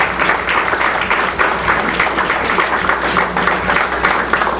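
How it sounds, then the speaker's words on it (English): A room of people applauding authors at a literary gathering, continuous mixed clapping close and fairly loud throughout, with faint crowd murmur underneath. "I really would like everybody here to applaud these fabulous authors that I see here"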